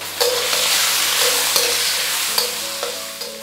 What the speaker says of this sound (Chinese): 把这个五花肉给它炒香，炒出猪油，开始冒猪油了